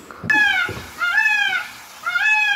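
A peacock call, played as a guessing-game answer: three loud, nasal cries in a row, each a drawn-out wail with a slightly falling pitch, heard alone without talk.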